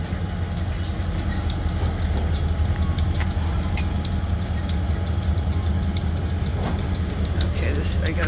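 A NECR freight train locomotive engine rumbles steadily as the train moves through a rail diamond, with a continuous low drone and faint clanking over it for the whole stretch.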